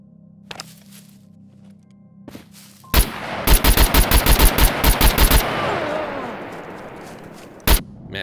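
Rapid tap-fired gunshots from a weapon in the Scum video game: a loud burst of about a dozen evenly spaced shots with echoing tail, one more shot later, plus a few faint thumps before.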